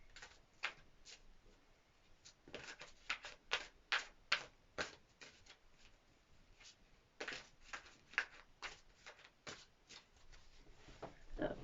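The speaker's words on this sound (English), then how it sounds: "we'll just give the cards a quick shuffle" Tarot cards being shuffled in quick bursts of riffling and flicking, close and crisp, with brief pauses between runs and no talking.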